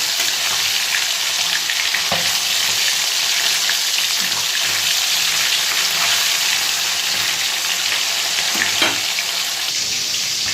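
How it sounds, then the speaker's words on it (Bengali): Bhola fish fries in hot oil, giving a continuous, even sizzle close by with a couple of faint clinks and no talking. "এই যে মাছ ভাজা হয়েছে আর এই তিনটে দিয়ে মাছ ভাজা কমপ্লিট হয়ে যাবে"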